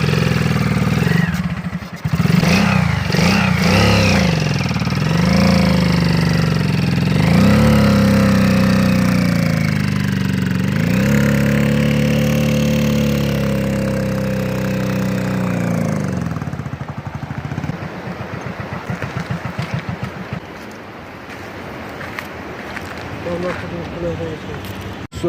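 A motorcycle engine runs close by, idling with rising and falling revs for most of the stretch before settling lower, while someone talks over it.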